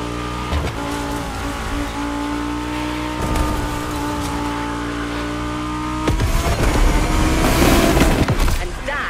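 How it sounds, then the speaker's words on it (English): Lamborghini Egoista supercar driving past at Motofest, a loud sustained engine drone with revving surges and a sharp burst near the end, with crowd noise and faint talk around it. "that was a glimpse of the Lamborghini Egoista"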